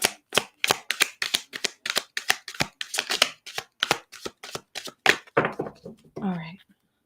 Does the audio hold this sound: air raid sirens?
no